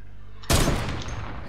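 A single sharp burst of gunfire in the video game Fortnite cracks out after a quiet moment, then a brief decaying tail of rattling echoes.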